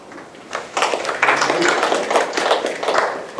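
Students in a university lecture hall clap together after a talk, a short burst of dense applause lasting a few seconds, fairly close and steady before fading.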